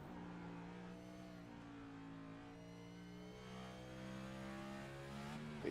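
A race car engine revving on throttle in iRacing at Watkins Glen, a steady, fairly faint buzzing drone whose pitch rises and falls as the revs change, with no talk over it.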